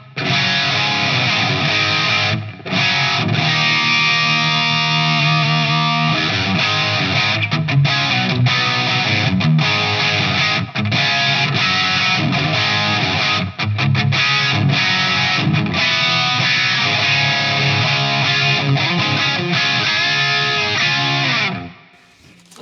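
An electric guitar through a Friedman IR-D amp playing chords and notes with a spacious reverb tail, loud and continuous, letting each strum ring out.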